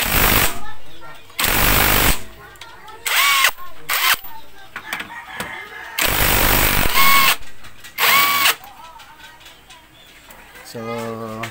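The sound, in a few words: impact wrench with 17mm socket loosening a nut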